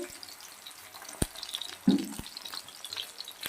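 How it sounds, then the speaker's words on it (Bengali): Onion, green chilli and halved crushed garlic fry quietly in a pan, a soft low hiss punctuated by a few sharp utensil knocks and one brief louder scrape, heard close with no voices. "পেঁয়াজ আর কাঁচা লঙ্কাটা আমি দিয়ে দিচ্ছি আর আমি রসুনটাও দিয়ে দিচ্ছি"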